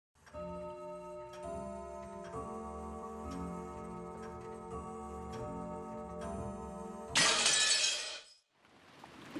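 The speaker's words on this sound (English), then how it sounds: "we really don't need to listen to the clock chime every single time" A clock in the Umineko visual novel ticks and chimes, sustained ringing tones with regular ticking layered in. A sharp burst of brighter noise near the end then fades out, with no talking.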